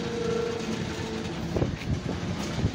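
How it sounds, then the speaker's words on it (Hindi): Passenger train pulling away from Lawrencepur station, a steady rumbling roar of wheels and carriages with low thumps and some wind noise, continuous and fairly close. "फिर अभी गाड़ी जा रही है"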